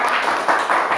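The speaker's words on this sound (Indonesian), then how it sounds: "Tepuk tangan buat kalian semua" Classroom applause for the students, a dense burst of many hands clapping at once, loud and close, with no talk over it.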